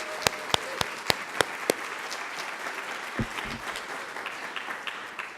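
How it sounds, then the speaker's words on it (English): A few sharp, loud claps ring out first, then an awards-ceremony audience breaks into steady applause that fades slightly over several seconds. "one big round of applause for those winners."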